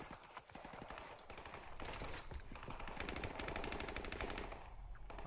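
Rapid sustained automatic gunfire from a Call of Duty: Modern Warfare Remastered firefight, dense bursts rattling continuously and loudly for several seconds without pause.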